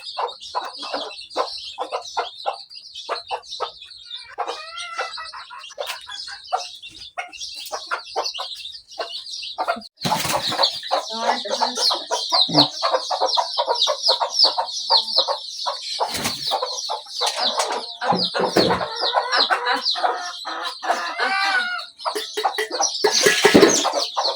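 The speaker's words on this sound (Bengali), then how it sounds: "আর এটা হইতেছে আমার টাইগার মুরগি" Chickens on a small farm cluck and chirp continuously, many birds close by, busy and fairly loud throughout with overlapping calls and occasional louder squawks.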